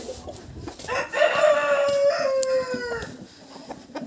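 A rooster crows loudly and close, one long drawn-out call, with soft clucking from other chickens around it.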